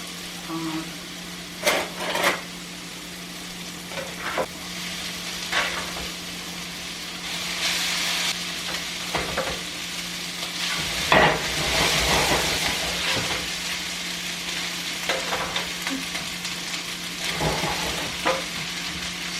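Rice stir-fried over high heat in a pan, with steady sizzling and intermittent scraping stir strokes running throughout, louder bursts midway, under occasional nearby talk.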